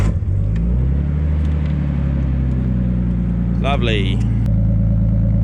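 A Nissan GU Patrol with an LS1 V8 engine and a sticky starter motor idles loudly and close with a deep steady rumble, a brief rev rising near the end; someone speaks a word over it.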